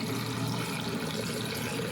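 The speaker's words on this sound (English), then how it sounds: "pour in our pickling solution that we've had infused overnight" Infused pickling solution poured into a large jar packed with onions, a steady continuous splashing pour of liquid heard close up and alone.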